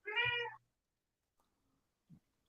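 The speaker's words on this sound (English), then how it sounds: "That was a cat. That's my cat." A house cat gives one clear, loud meow up close, followed by near silence and a faint short sound a moment later.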